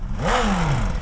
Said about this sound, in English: That sounds like a big end.